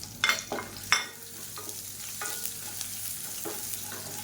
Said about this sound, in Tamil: பூண்டு நல்லா வதங்கிருச்சு